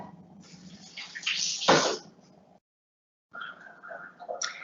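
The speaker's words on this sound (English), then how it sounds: "I'm gonna go rinse my hands again." Tap water runs steadily while hands are rinsed at a kitchen sink during an Italian cooking session, a broad hiss that rises and swells, stops for about a second, then resumes more softly.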